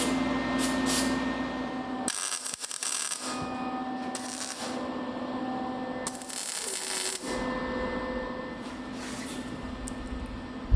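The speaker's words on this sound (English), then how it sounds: "So I'll drill some holes in the back." A power drill whines steadily as it bores into metal, with two brief louder bursts of grinding as the bit bites through, close by.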